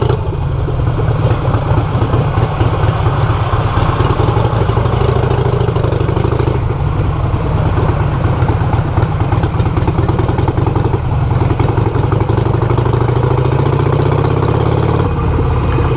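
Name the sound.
Ducati Panigale motorcycle engine idling nearby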